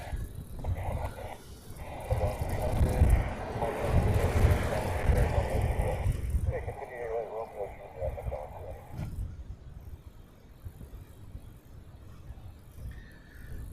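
A Delta Boeing 767 heavy lands on crossing runway 4 Right at a Hawaii airport, a broad distant rumble swelling for a few seconds then fading, with wind buffeting the microphone and faint voices in the background.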